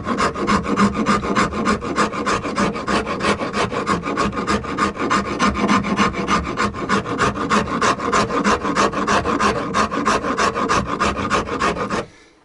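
A Shinto rasp filing wood, with steady rhythmic rasping strokes repeating evenly and loudly up close for the whole stretch and then stopping abruptly at the end, no talking.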